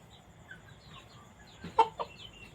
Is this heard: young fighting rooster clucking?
yes